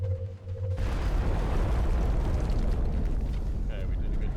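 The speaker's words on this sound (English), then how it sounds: "Rockets away" A rocket explodes at an Abductor UFO crash site in XCOM: Enemy Within, a sudden loud blast that erupts after a low hum and rolls on as a sustained rumbling roar with debris noise.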